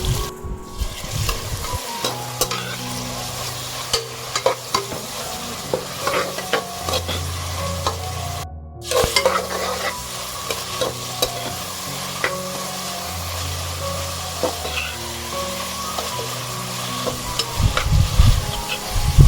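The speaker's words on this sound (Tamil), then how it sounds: "இது நல்லா ஃப்ரை ஆன உடனே நம்ம வெட்டி வச்சுருக்கிற வெங்காயத்தை போட்டு நல்லா வதக்கிக்கலாம்." Chopped onions sautéing in hot oil in a pan for a green chicken curry, giving a loud, steady sizzle with repeated stirring and scraping throughout.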